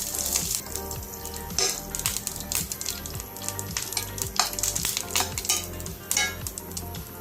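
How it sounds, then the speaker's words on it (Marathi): Mustard seeds, cumin and curry leaves crackle in hot oil in a pan, a loud, close, continuous sizzle with scattered pops and repeated rhythmic stirring scrapes. "यानंतर लगेचच आपण कढीपत्ता घालून घेऊ आणि सगळं साहित्य छान असं परतून घेऊ"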